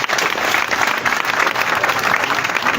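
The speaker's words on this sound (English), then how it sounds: "Give my brother here another big applause." A crowd at a political party certificate-awarding ceremony in Uganda breaks into loud, continuous clapping that holds steady for a few seconds, close and dense.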